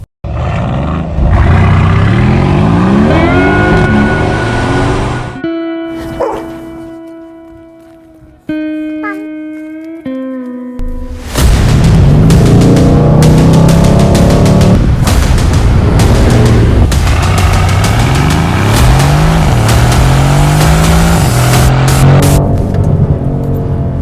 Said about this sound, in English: V8 bi-turbo engine in here is insane.